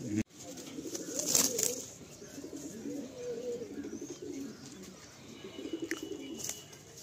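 Madrasi pigeons coo in a full loft, low soft cooing rolling on and off close by, with a faint chirp and a brief flutter among them.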